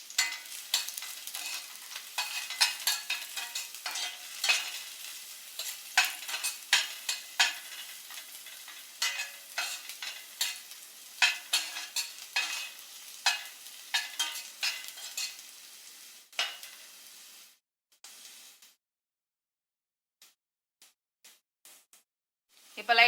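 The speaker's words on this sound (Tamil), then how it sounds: "இப்போ அதில் பூண்டு போட்டுடலாம். பூண்டு நல்லா அந்த ப்ரௌன் கலர் வர வரைக்கும் இருக்கட்டும்." Garlic fries in oil until brown for honey chilli potatoes, with bursts of crackling and repeated stirring scrapes; it thins out, falls nearly silent, then returns with a few brief sounds.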